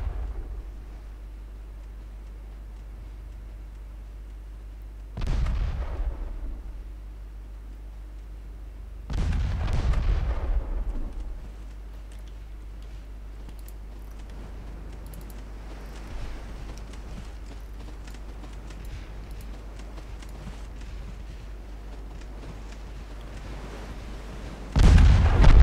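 Naval guns in the warship strategy game Ultimate Admiral Dreadnoughts fire in separate heavy booms, two large blasts followed later by another sharp one, each rumbling out over a steady low engine-like drone.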